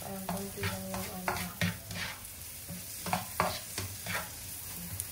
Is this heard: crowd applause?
no